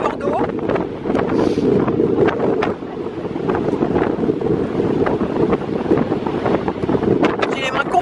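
Wind blows hard across an Icelandic site with drifting water vapour, a steady loud roar buffeting the microphone, while a voice speaks faintly beneath the gusts.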